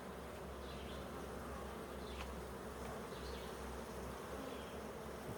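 Honey bees buzz around an open hive during an inspection, a steady, dense droning hum, close and continuous with no talking.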